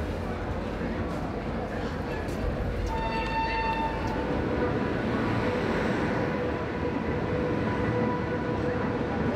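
A train at a railway platform in Agra, India, heard as a steady loud rumble of rolling stock with a brief tonal horn-like whine partway through, under faint background voices.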